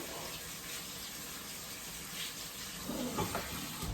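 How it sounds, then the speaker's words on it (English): Running tap water pours steadily over yellow wax beans and green beans being rinsed, a continuous splashing gush that grows a little louder and more broken toward the end as the beans are moved under the stream. "Now we're gonna rinse these all off real good."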